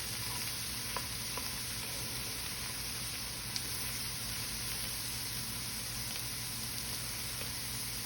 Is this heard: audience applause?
no